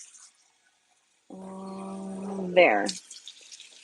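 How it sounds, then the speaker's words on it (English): Water poured steadily into a pot of rice for cooking, a sustained close pour whose pitch rises as the pot fills, ending abruptly after a couple of seconds. "now we're gonna pour in the water"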